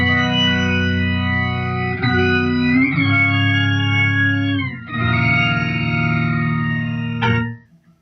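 Electric guitar played through an organ effect pedal gives sustained, organ-like chords with rich stacked harmonics, shifting through several chord changes before fading out at the end.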